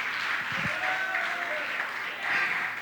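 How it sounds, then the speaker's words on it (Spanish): A church congregation applauding, a dense continuous patter of many hands clapping at moderate distance, with faint voices mixed in. "Alguien le da un aplauso a Dios por la salvación que Él nos ha dado."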